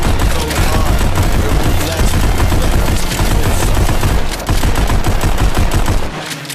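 Rapid, dense pistol gunfire from the VR game Pistol Whip on a Meta Quest 3, loud and continuous with heavy rhythmic music, shots blending into a steady barrage before a brief drop near the end.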